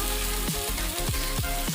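Raw plantain (vazhakkai) pieces fry in oil in a pan, giving a steady, close sizzle with a few scraping stirs throughout.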